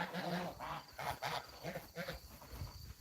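Ducks and geese on a mountain farm honk and quack loudly in a rapid overlapping chorus, close by and continuous.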